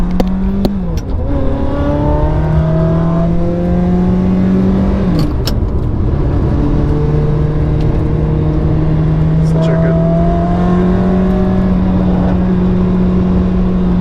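Ferrari F430 V8 engine and exhaust heard from the cabin while driving, with revs climbing and dropping through several gear shifts, loud and continuous over about fourteen seconds.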